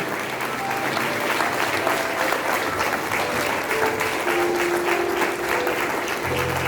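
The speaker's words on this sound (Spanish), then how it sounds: "Dale un aplauso al Señor." Church congregation applauding during a Sunday service, sustained dense clapping that fills the room, loud and even with faint voices beneath.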